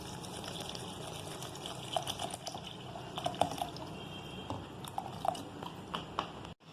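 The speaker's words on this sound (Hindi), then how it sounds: "फिर हम आखिरी में पानी ऐड करेंगे।" Water being added to a falsa fruit juice mixture with salt, heard as soft, quiet splashing and trickling with small irregular liquid pops over a low background.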